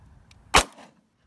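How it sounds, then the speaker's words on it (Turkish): Ekol Alp blank pistol fired once outdoors, a single sharp, loud crack that decays quickly into a short tail, with a faint click just before and quiet afterward. "2 tane atıyorum."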